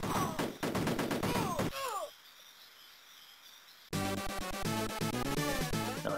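Shooting in a game played on an Amiga 500 Mini, fired with the right mouse button: rapid bursts of synthesized gunfire amid chirpy electronic game music and effects, broken by a quieter pause before loud game audio resumes.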